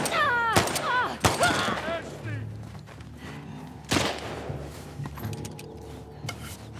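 Gunfire in The Last of Us Part II, a few loud sharp shots spaced seconds apart, mixed with game sounds and someone talking over them.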